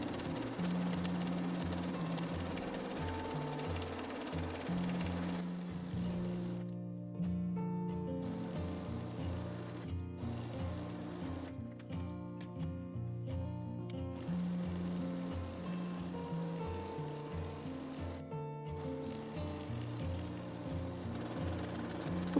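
A sewing machine runs a seam 1 cm from the edge of an Ibiza skirt, its quiet steady motor whirr broken by a few short stops and restarts.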